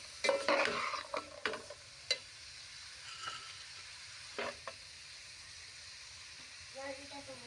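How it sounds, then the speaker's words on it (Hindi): Cut potatoes, peas and carrots are stirred in a pan, giving a few quick scraping, clattering strokes early on, then a faint sizzle with sparse later clinks. "अच्छी तरह से मिक्स करना है।"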